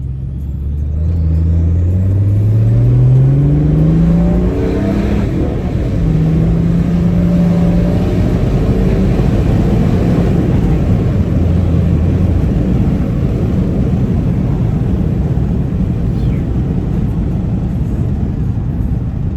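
A BMW 535d diesel engine revs up hard under acceleration, its rising drone climbing through gear changes into a loud, steady roar from inside the cabin.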